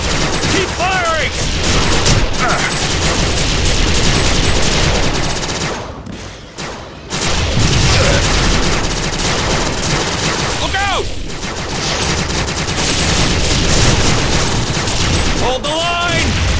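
Sustained rapid gunfire in the video game TimeSplitters: Future Perfect rattles loudly and almost nonstop, with bursts of automatic fire, explosions and shouting voices over it, broken by a couple of brief lulls.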